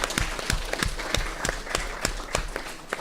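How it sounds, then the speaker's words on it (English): A room of people applauding panel speakers at a morning conference session, with steady, moderately loud clapping that continues throughout. "If you could join me in a round of applause."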